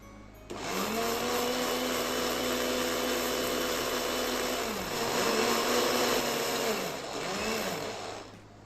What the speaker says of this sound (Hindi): अब इसको एक बार से दोबारा से पीस देंगे